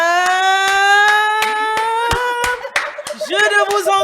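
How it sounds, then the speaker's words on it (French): Steady rhythmic hand clapping keeps time under a loud sustained voice, with the claps growing more scattered toward the end. "que nous puissions accueillir avec des applaudissements nourris"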